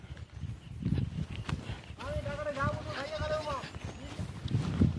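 Goats being bought from their owner bleat in a drawn-out, wavering cry in the middle of the stretch, with people talking over the animals and shuffling farmyard noise around them.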